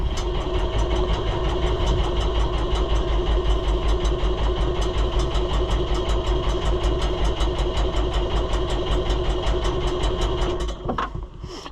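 A New Holland TN75DA tractor diesel with a fuel leak idles with a steady, rhythmic knocking chug, close and continuous, then cuts out near the end.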